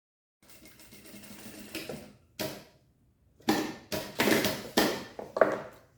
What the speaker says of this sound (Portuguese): agora nós vamos passar uma costura aqui por dentro de um pé de máquina